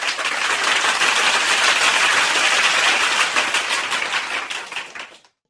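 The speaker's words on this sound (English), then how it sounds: "Give us a round of applause." A canned burst of applause from a soundboard: loud, dense crowd clapping holds steady for about five seconds, then fades out quickly.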